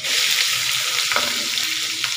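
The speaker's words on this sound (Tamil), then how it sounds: "இப்போ வெங்காயம் போட்டுடலாம்." Onions hit a hot pan already holding curry leaves and green chillies for a fig (athikkai) poriyal, frying in a steady, loud broadband sizzle with a few stirring scrapes, no talk.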